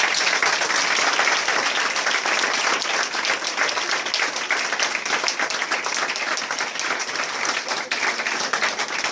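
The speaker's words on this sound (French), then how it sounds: "Est-ce qu'on peut acclamer Jésus?" A church congregation bursts into loud, sustained applause, a dense wall of clapping from many hands filling the room for several seconds without pause, acclaiming Jesus.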